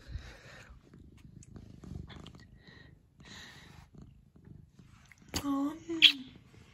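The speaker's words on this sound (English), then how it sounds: "She's purring like a cute kitty cat." Soft, low rumbling purr from a cat nearby, steady and quiet, with a couple of higher meows or squeaks near the end and some talking.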